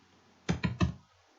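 Three quick, close keystrokes tap on a computer keyboard while a JavaScript function is written, spaced evenly in a short burst with near silence around them.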